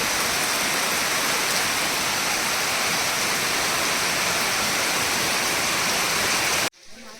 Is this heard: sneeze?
no